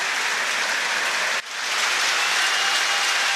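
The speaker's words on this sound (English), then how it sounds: "the crowd still applauding loudly as both teams are out on the park" A large crowd applauds loudly at Thomond Park in Limerick after a Munster versus All Blacks rugby match, a dense continuous roar of clapping with a brief dip partway through.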